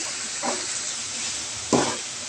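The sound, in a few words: stirring chicken, salted vegetables and seasoning in a pan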